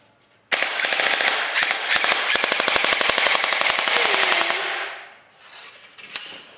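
A gel blaster with a freshly reassembled gearbox fires a rapid full-auto burst of sharp, evenly spaced clicks for about four seconds. It stops abruptly, leaving a faint mechanical whir.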